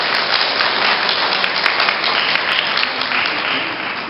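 An audience at a photo exhibition opening in an art house in Siheung gives sustained, steady applause of encouragement, a dense even wash of clapping with a few sharper claps standing out.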